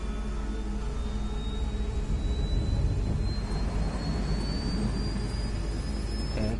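Jet aircraft in a PlayStation 4 flight game taking off and accelerating toward breaking the sound barrier: a steady roaring engine with a rising whine that climbs in pitch as it speeds up, loud and continuous with no talking.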